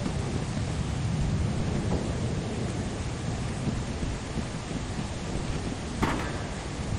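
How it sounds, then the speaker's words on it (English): Thunder rolls continuously with rain-like noise during a lightning storm in the video game Lethal Company, loud and steady, with a sharper crack of a lightning strike near the end. "Trying to let the lightning strike."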